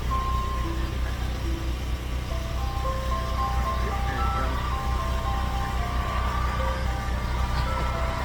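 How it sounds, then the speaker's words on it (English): An ice cream truck plays its tinkling chime melody steadily over a loud, continuous idling engine rumble, with faint voices in the background. "getting a good old ice cream from an ice cream truck"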